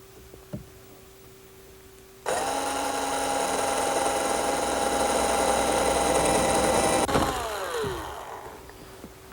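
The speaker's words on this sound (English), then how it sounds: "I think we can drill it at an angle with a regular drill" A regular electric drill bores an angled hole through a wooden wall stud, spinning up with a loud steady whine for about five seconds before winding down.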